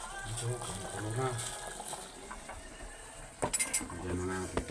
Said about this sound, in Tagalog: Ito, kumukulo na.